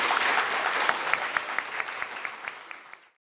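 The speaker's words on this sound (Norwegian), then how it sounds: "Så da ønsker jeg at dere gir dere sjøl en stor applaus." Applause from a room of young people at the end of a mock Security Council role-play session, steady clapping with a few sharper individual claps standing out, gradually tapering before it stops abruptly.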